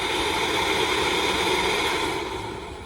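A Ryobi 18V ONE+ small cordless blower runs on its lowest speed setting, a loud, steady broadband rush of air heard close up, easing slightly at the very end; no voices.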